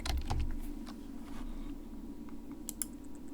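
Quick, light keystrokes on a computer keyboard, a short burst of clicks at the start followed by sparser taps, quiet and close with no talking.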